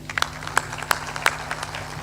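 A satsang audience gives a smattering of uneven claps, with a few sharper claps standing out over a steady low hum.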